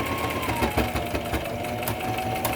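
A sewing machine labours while stitching through several layers of fabric on a mask's tie casing, its motor whirring steadily with slight pitch drops and uneven thumps as the needle punches through the thick folds.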